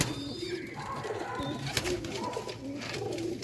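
A female pigeon coos softly several times at close range, low rounded calls repeating steadily over a steady background hum, with no one talking.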